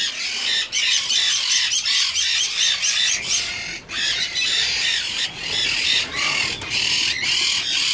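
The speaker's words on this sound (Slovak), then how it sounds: "Máme tu nejaké papagáje." Parrots squawk loudly and almost continuously at a parrot zoo in Argentina, harsh screeching calls overlapping in a dense, busy chorus close by with no talk.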